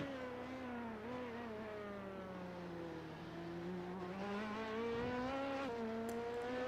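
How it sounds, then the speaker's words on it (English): A high-pitched LMP2 race car engine in the iRacing game at Sebring drones steadily, its pitch dipping and climbing as it shifts and revs, with no talking. "Just listen to that LMP2 engine."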